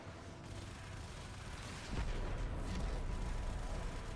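A heavy cannon fires in the sci-fi game Warframe, a deep booming blast that swells about halfway through into a sustained roar of rumbling noise, dense and loud with no voices.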